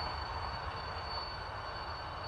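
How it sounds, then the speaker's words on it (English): A train dragging a piece of steel gives off a loud, unbroken metallic screech, a piercing high whine over a harsh rushing roar, close and steady throughout. "that train must be dragging a piece of steel behind it"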